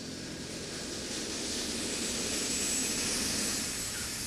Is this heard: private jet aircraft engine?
yes